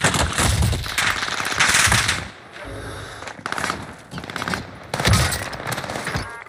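Automatic gunfire and bursts of shots in Call of Duty Warzone, loud and close, coming in rapid rattling volleys with brief lulls between them.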